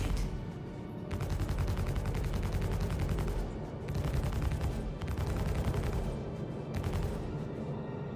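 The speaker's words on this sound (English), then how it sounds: "Oh, they're firing now." Ships trading gunfire in an asteroid belt in Star Citizen, rapid automatic bursts in several long volleys with short gaps between them, loud and dense over a low rumbling background.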